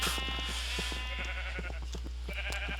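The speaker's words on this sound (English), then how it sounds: "Back here I have my sheep." Sheep in the Minecraft video game give a series of short, repeated bleats at a steady pace over a constant low hum and faint background tones.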